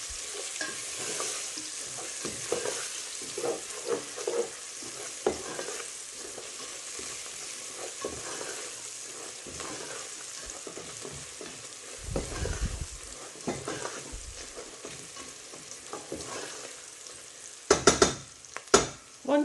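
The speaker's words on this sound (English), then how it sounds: "And then we're just going to stir this very gently." Spinach curry seasoned with turmeric gets stirred gently in a pan, soft scraping and stirring over a steady low sizzle, with a few louder clanks and scrapes near the end.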